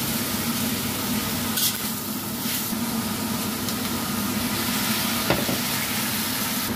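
Pork belly fries in oil in a pan, giving a steady close sizzle and crackle with a few faint clinks of stirring.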